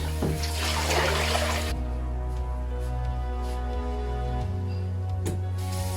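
Tap water runs into a basin to bathe a ball python, a steady rushing stream that starts loud and turbulent, then settles into a smoother, lower flow with small clunks.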